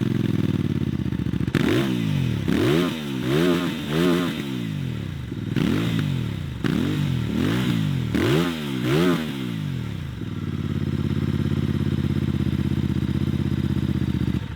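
A 2025 Benda Napoleonbob 500 bobber motorcycle engine rumbles up close, revving in repeated rising and falling bursts with gear-change pauses, then settling into a steady low drone.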